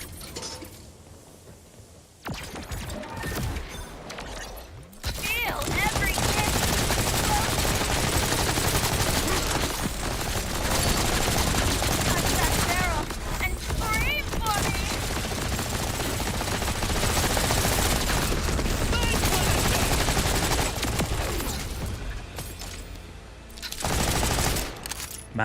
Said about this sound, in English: this gun is already shooting incredibly fast